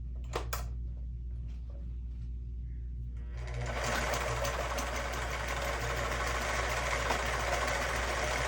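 A sewing machine stitching down the folded end of a stuffed item, starting after a few quiet seconds with faint handling clicks, then running steadily and loudly close up for the rest of the clip.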